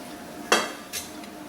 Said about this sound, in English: So now I'm fixing to add back in the rest of the potatoes.